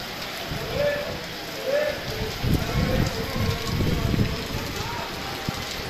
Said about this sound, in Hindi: बारिश आई बहुत ज़्यादा स्पीड के साथ है,